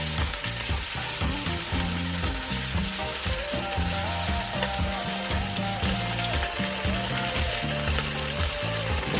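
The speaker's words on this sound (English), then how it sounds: "Make sure to sear the ribs on all sides until golden brown." Beef short ribs searing in a Dutch oven, a steady loud sizzle of fat and meat against hot metal, continuous with occasional crackles and a faint hum underneath.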